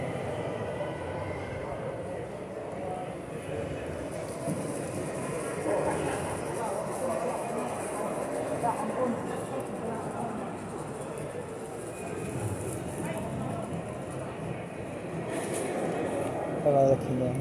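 Trains on display at the Perth train exhibition, heard as a steady, moderate rumble of running rolling stock and exhibition-hall bustle with faint squeals, carrying on throughout under distant voices.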